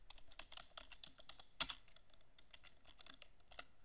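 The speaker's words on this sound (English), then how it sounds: "type in format C drive" Keys on a computer keyboard are tapped in quick, irregular bursts, close and fairly quiet, with one sharper press near the middle and no talking.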